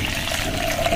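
Hot water poured into a metal oil can during cleaning, a continuous close rushing splash that stays steady and fairly loud through the brief moment, with no speech.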